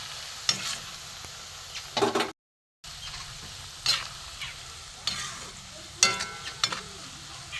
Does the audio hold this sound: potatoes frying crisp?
yes